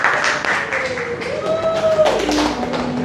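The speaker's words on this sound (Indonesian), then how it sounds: "Ya, tepuk tangan untuk Talita." Classroom applause for a student, a steady patter of clapping hands from a group in a room, moderately loud and continuous, with voices talking over it.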